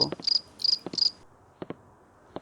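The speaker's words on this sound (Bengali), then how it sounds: "কেবল বাইরে ঝিঝি ডাকছে।" Crickets chirp in three quick, close bursts, then trail off into a few faint clicks in a quiet night setting.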